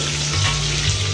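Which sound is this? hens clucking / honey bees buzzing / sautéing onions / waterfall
sautéing onions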